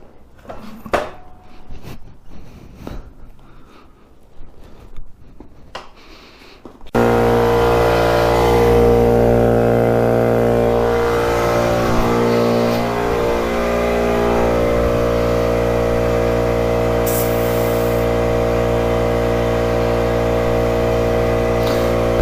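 A two-stroke Yamaha motorcycle engine running on one cylinder fires up after a few quiet seconds of handling, then idles and revs loudly and steadily up close for the rest of the clip.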